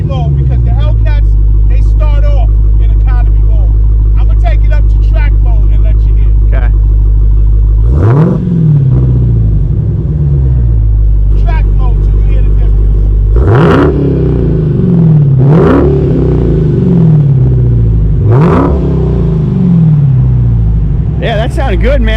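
A Dodge Durango SRT Redeye in track mode idles with a heavy, loud rumble, then is revved four or five times. Each rev is a quick, snarling rise that drops straight back to idle.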